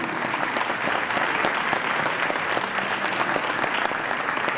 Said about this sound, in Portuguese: uma salva de palmas para esse coral maravilhoso